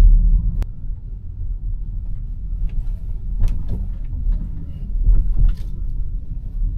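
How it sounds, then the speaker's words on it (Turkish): A Skoda Enyaq Coupe on 21-inch wheels rolls over a harsh road joint, with a steady low cabin rumble broken by a couple of dull, short thumps from the tyres striking the seam. "Şuradaki sert kesikten bir geçelim."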